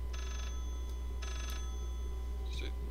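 A telephone rings in the horror video game Layers of Fear, two fairly faint repeating bursts of ringing over a steady low hum, followed by a brief higher chime near the end.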